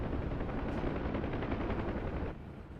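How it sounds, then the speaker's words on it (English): Sustained rattling gunfire with helicopter rotor noise in DCS World, a combat flight game with Huey helicopters, loud and continuous, easing off near the end. "we're shooting at the moment, or will be"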